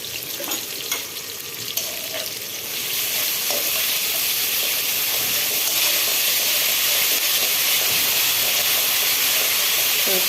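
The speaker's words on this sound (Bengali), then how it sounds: "ভাজা ভাজা করে নেবো।" Loitta fish fries in a pan with ginger garlic paste, first with scraping stirs, then a loud, steady hissing sizzle that swells and holds close by.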